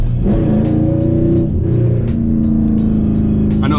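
Manual car engine revving hard and close, a loud sustained roar with rising and falling pitch through several throttle blips, no talking.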